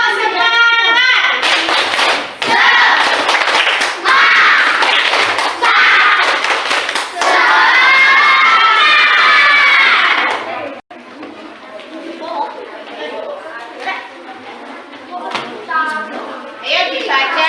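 Fifth-grade schoolchildren in a classroom doing a rhythmic ice-breaker cheer, loud patterned clapping in quick bursts mixed with children's chanting voices, then the clapping stops and a quieter stretch of talk follows.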